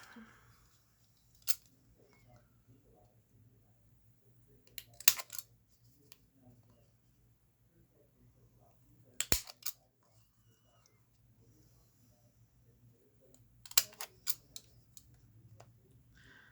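Crisp scissor snips come in a few short bursts spaced several seconds apart, close and distinct against a quiet room.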